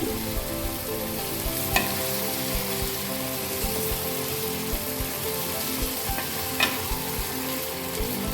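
Chicken for a Chettinad chicken fry sizzles and fries steadily in a pan, with repeated scraping stir strokes and a couple of sharper clinks over a constant bubbling hiss, close and continuous.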